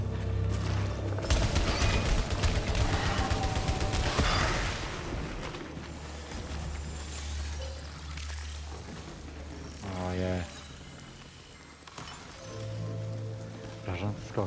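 Rapid bursts of gunfire from a weapon in the video game Returnal crackle in the first few seconds, then thin out into scattered shots and effects while someone talks.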